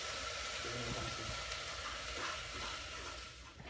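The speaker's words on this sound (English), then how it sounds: "You're gonna put the diced tomatoes in. Leave some of the juice in there." Canned diced tomatoes with their juice go into a hot cooking pan for brown rice and black beans, giving a continuous, even hiss of sizzling liquid that fades slightly near the end, with no talking.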